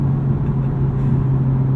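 Turbocharged Honda Civic Type R engine heard from inside the cabin while driving, a steady low droning hum with a strong constant tone, even and unchanging throughout.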